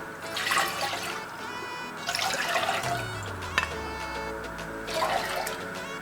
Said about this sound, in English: So first I am adding in 3 cups of water.